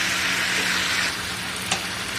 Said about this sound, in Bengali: তো আলুগুলো মশলাগুলো ভালো করে আমি কষে নেব।